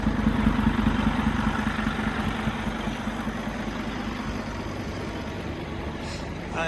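A Scania K360 diesel engine in a Plaxton Panther coach idles nearby, a steady low rumble with a fine rhythmic throb holding even throughout.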